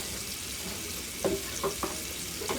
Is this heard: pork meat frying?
yes